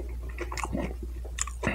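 Close, wet chewing of leftover pizza topped with onions and peppers, with soft crunches and squishy bites in a brief, irregular burst.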